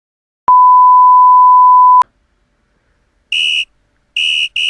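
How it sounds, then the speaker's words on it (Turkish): A referee's whistle signals the end of a Trabzonspor championship football match with several sharp shrill blasts, the last two close together. A steady electronic beep tone plays alone before them. "Düdük de çaldı."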